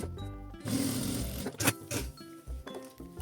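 A home sewing machine stitches clear crystal plastic for a women's cosmetic bag with a viewing window, its motor whirring steadily up close in a short burst with a brief clatter in the middle.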